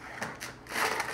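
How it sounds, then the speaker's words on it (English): Package containing rice flour beetles being opened, a short burst of crinkling, crushing rustles of packaging material, close and moderately loud. "So let's open this package up"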